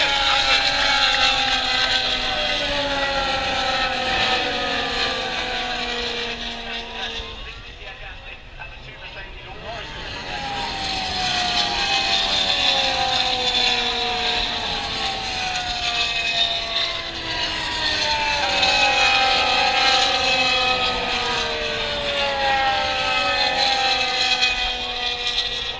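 Formula One cars racing at the 2019 British Grand Prix at Silverstone, a continuous high-pitched engine whine with rising and falling gear sweeps, briefly dipping before swelling again, heard over trackside crowd noise.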